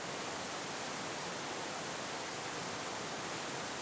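Water running steadily along the edge of a river, a dense even rush spread across the band, close and constant for the whole stretch with no voices.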